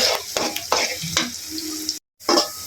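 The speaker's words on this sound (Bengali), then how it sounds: "কালা বোনার জন্য প্রথমে পেঁয়াজ ভাজা নিতেছি" Onions frying in oil in a pan, a loud close sizzle with repeated sharp scraping strokes of a spatula, briefly cut to silence near the end, with no talk.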